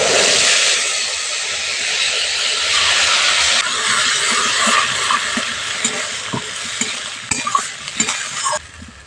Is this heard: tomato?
yes